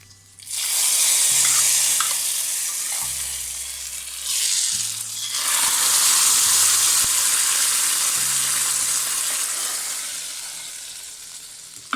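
Roasted coconut paste being stirred into a Malabar sadhya-style sambar, a steady loud broadband sizzle and bubbling from the pot with occasional stirring scrapes, continuous for about eleven seconds with no talk.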